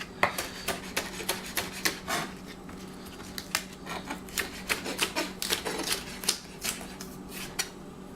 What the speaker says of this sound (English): Actually, I'm gonna cut these up a little more. And go ahead and cut this one up as well.